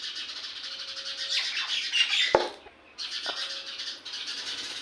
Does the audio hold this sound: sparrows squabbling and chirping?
yes